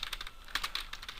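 Rapid keystrokes on a computer keyboard while entering a server name, a steady run of close, crisp clicks with brief pauses between bursts.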